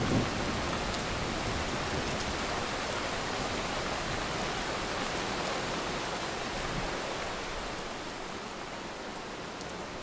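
Heavy rain pours down in a steady, dense hiss that stays even throughout and fades slightly toward the end.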